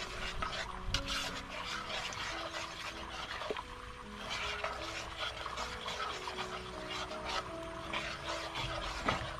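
Thin milk is stirred in a container for a homemade mango cake made at a farm, with a continuous close scraping and swishing rub and no talking.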